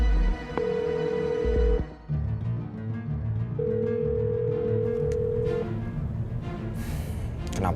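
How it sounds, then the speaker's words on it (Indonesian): A telephone rings unanswered indoors, long steady electronic tones repeating with gaps, fairly quiet over a low background hum. "Kenapa sih Yasmin nggak angkat telepon?"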